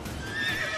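Panicked horses in The Witcher 3 video game, a short burst of agitated whinnying with clattering hooves, fairly close and loud against steady game ambience.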